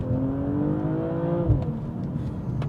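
BMW M240i xDrive G42 with its B58 engine pulls under acceleration inside the cabin, a steady mid-pitched engine drone climbing through the revs, then easing off as the car shifts or lifts.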